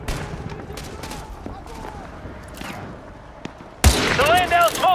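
Gunfire in a Call of Duty Modern Warfare 2 Remastered battle, scattered distant shots and crackling bursts, then a sudden loud volley of close fire near the end, with radio-style voices in between.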